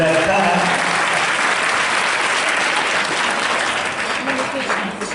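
Audience at a Hindi religious discourse claps steadily and loudly throughout, a dense continuous applause that eases slightly toward the end.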